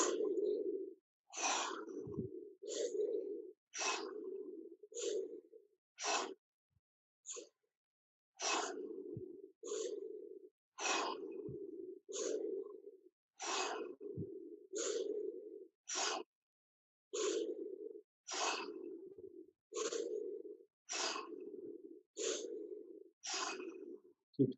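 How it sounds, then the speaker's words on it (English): Deep breathwork: full inhales and exhales repeat in a steady rhythm, about twenty evenly spaced breaths, close and clear, with no talking. "Exhale fully. And everyone together, full inhale."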